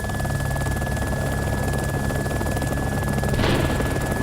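A video game helicopter making a hard, damaged landing under fire gives a loud, continuous rotor thrum with a steady engine whine, close and unbroken, with a brief burst of noise near the end.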